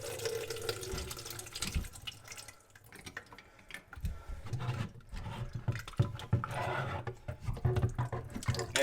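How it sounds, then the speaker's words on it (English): Water trickles and drips irregularly from a loosened sink drain pipe under a bathroom vanity, close and fairly quiet, with intermittent splashes. "we're just going to get a little bit of water coming out of here"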